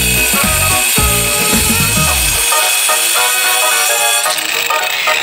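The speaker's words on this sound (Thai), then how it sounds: "การตัดแต่งนะครับก็ใช้ลูกหมูใส่ใบตัดกระเบื้องตัดได้เลยนะครับ" A handheld angle grinder fitted with a tile-cutting blade cuts artificial wood siding, a loud continuous high whine that carries through the whole span as the blade bites.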